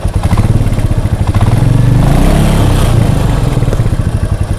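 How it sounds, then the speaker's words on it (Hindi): Royal Enfield Meteor 350 BS6 single-cylinder motorcycle revving close up, a loud thumping exhaust note that rises from idle into a sustained rev and settles back, heard alone. "Now let's listen to the exhaust note of this Meteor 350."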